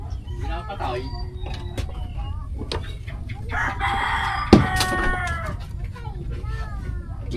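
Pet chickens in a home kitchen area crow and cluck, with a rooster's call rising clearly midway over steady background noise and people talking nearby.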